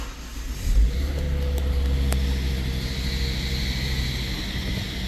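A Volvo S60 engine turns over and settles into a steady, close idle hum that holds evenly after a brief initial surge.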